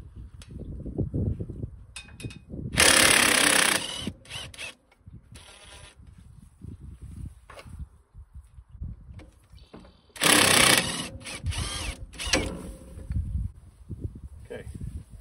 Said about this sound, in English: Now we have to unbolt these couplers and take the drive axles off